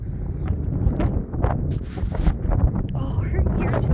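Steady wind buffeting the microphone outdoors, a continuous low rumbling roar with gusty rises and dips throughout, while people talk.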